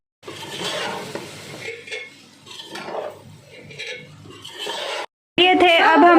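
A utensil scrapes and clatters against a pan while fried rice is stirred with vinegar, soy sauce and chili sauce, with sizzling underneath; a voice briefly follows after a short gap near the end.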